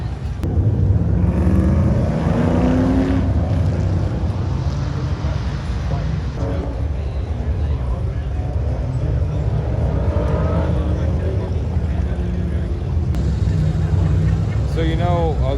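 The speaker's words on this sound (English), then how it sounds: "there's drag racing going on right now" Drag racing cars accelerating at LS Fest, a car show and motorsport event: a loud, constant engine roar with rising revs carries throughout, while a person talks nearby over it.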